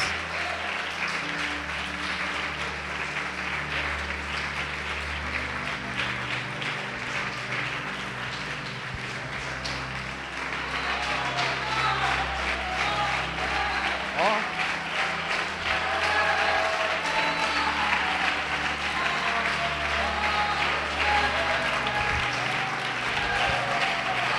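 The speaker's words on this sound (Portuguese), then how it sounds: "Vamos aplaudir o Senhor Jesus, vamos glorificar a Deus." Church congregation applauding during a worship service, a long, steady wash of many hands clapping that swells louder partway through, with low musical tones humming underneath and no talking.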